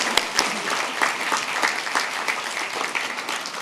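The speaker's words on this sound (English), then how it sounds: "let's show our appreciation to them through a roaring round of applause" Roaring applause from the audience at a university graduation ceremony in Singapore: a large crowd clapping densely and continuously at a strong, even level, with a few sharper claps standing out near the start.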